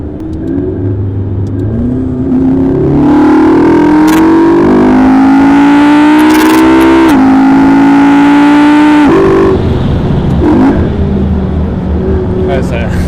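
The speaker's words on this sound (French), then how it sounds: "ça accélère fort, hein, et puis ça freine bien aussi" McLaren MP4-12C accelerating hard from low revs, its engine note climbing steadily and loudly, heard from inside the car, with a gear change before the revs settle.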